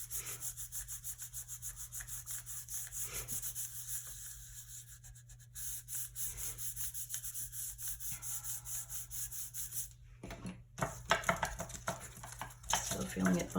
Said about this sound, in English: Give it a nice little burnish.